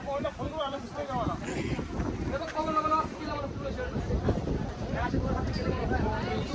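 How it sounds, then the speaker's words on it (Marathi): Strong wind roars across a mountaintop at Bramhagiri near Trimbakeshwar, buffeting the microphone with loud continuous gusts while someone talks over it. "मित्रांनो खूप जोरात हवा सुटलेली आहे इकडे वरती आल्यामुळे ज जास्त हवा लागत आहे"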